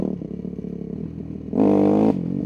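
A Yamaha YZ250F motorcycle engine, freshly rebuilt, idles with a rough close-up putter, then revs sharply to a loud, high whine for about half a second before dropping back, with no talking.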